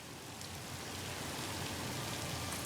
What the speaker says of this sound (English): It's raining kittens and puppies out there.